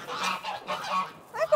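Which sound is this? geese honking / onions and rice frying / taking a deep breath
geese honking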